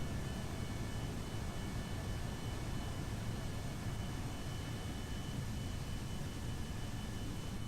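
An airplane in a video game takes off and flies, producing a constant, even engine roar and airy rush that stays steady and moderately loud throughout, with no speech over it.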